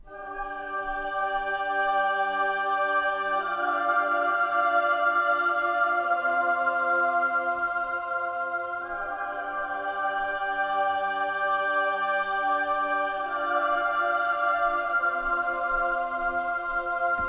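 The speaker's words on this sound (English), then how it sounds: "I added these choirs over the top" Sampled choir in a neo-classical track sings soft, sustained treble chords that shift slowly. The voices are layered and airy at a steady, gentle level, with no talking over them.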